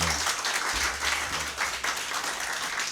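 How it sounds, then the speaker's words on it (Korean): An audience in a studio broadcast bursts into lively applause, a dense wash of clapping that swells and holds for a few seconds. "박수 한번 부탁드립니다"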